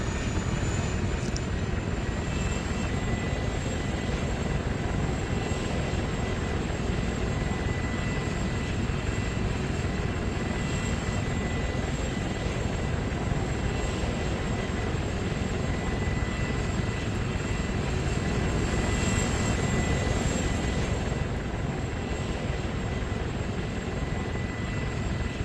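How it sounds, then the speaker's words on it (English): Aircraft engine drone in the Arma 3 video game as a plane takes off and flies a recorded track, a steady loud continuous roar with a faint high whine throughout, no speech. "It will shortly take off, and it will fly the track that I recorded"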